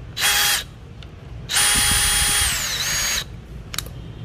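A two-speed US-made Dewalt or Milwaukee cordless drill, battery just fitted, whines in a short burst and then a longer run whose pitch drops as it slows. It is close and loud, and no one speaks.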